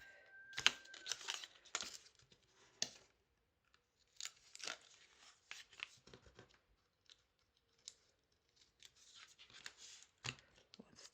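Paper backing peeled off a dome-shaped wedding favour box, heard as quiet, close crinkling, tearing and rustling in scattered short bursts with silences between. One faint tone at the start.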